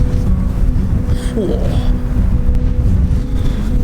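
Strong wind roars and buffets against the microphone in a continuous heavy rumble, close and loud throughout.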